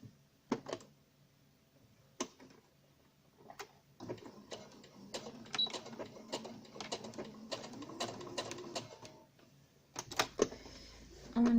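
A domestic sewing machine stitches through fabric next to a buttonhole, heard as short bursts of rapid mechanical ticking separated by pauses, close and fairly quiet, with no one talking.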